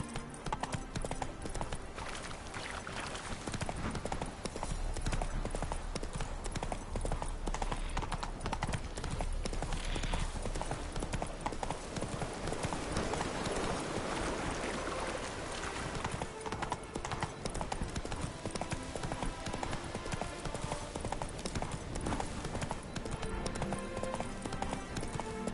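A horse gallops in the Witcher 3 video game. Rapid, continuous hoofbeats clip-clop steadily throughout, blended with other game sounds, and a voice comes in faintly at times.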